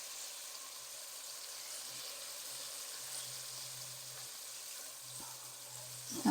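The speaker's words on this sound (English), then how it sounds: "I want it to just fry up there." Floured, seasoned chicken pieces fry in a pan with a soft, steady sizzle and a faint low hum behind it, fairly quiet and unchanging.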